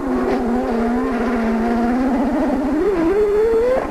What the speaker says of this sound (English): That is a stuck throttle if I've ever heard one. You can hear the rear tires powering all the way through the gravel and even up onto the tires.